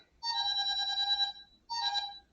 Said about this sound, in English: Uh-oh, telephone.